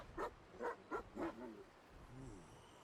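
A video game dog barks four times in quick succession, then gives a couple of softer whining yelps, heard at a moderate distance.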